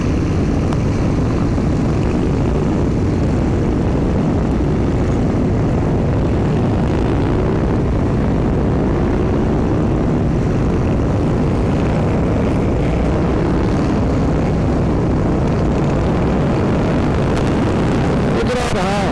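A big pack of Harley-Davidson motorcycles rumbles past on the road, a steady low engine drone that stays loud throughout, with voices talking over it.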